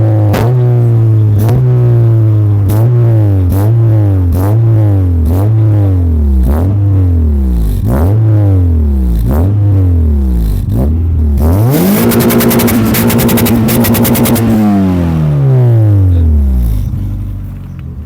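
Tuned car engine from a tuning specialist blipped in a rhythm of about a dozen quick revs, then held at high revs before dropping back, loud and close with no talk over it.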